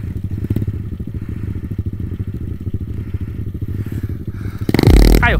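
A small motorcycle's engine chugs with a steady rapid putter as it climbs a steep dirt bank, with rattling and clatter over the rough ground, then a loud scraping, thumping burst near the end.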